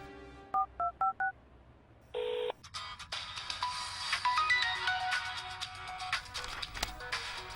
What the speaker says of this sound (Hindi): ओ, रम्या का फोन है।